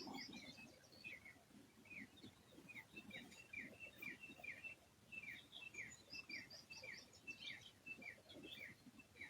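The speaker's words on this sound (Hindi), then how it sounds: "पंछियों की आवाजें सुनें" Several small birds chirping and tweeting in quick repeated phrases, fairly faint and distant, against a quiet outdoor background.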